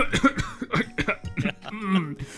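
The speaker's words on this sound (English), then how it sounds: "he proceeds to choke and start coughing" Several harsh coughs and sputtering, choking sounds come in quick irregular bursts, close to the listener, with a strained, wheezy tone near the end.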